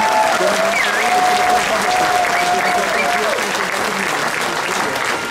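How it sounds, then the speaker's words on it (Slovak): A large concert audience at a symphonic tribute show applauds loudly and continuously, a dense roar of clapping with crowd noise and a faint voice or tone riding on top. "Za to si zaslúžite jeden obrovský potlesk."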